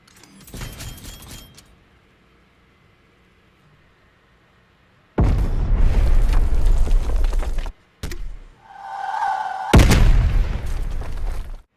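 Gunfire aimed at a spawn tube on the Zoo map in Black Ops Cold War, with a short burst early on, then loud sustained blasts and booming bursts that cut off abruptly and return.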